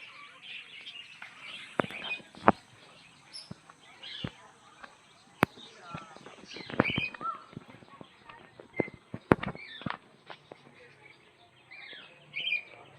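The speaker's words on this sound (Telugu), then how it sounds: "చిన్న చిన్న ప్యారెట్స్ ఉన్నాయి." Small parrots chirp and call in short bright bursts at Kotappakonda zoo park, scattered across the scene with sharp clicks and thuds nearby, while people talk intermittently.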